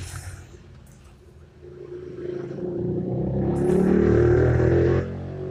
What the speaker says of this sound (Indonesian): berisik amat motor itu